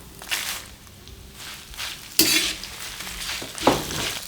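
Dal, curry leaves and dried red chillies fry in hot oil, a steady close sizzle broken by scraping stirs and a few louder clacks of a spoon against the pan.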